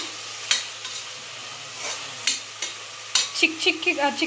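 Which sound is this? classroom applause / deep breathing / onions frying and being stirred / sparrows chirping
onions frying and being stirred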